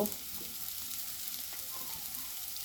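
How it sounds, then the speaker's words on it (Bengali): Sidol, a dried fish paste, is stirred with turmeric and salt in a pan, giving a faint, steady sizzle with soft scraping of the utensil throughout. "আবার একটু নাড়াচাড়া দিই"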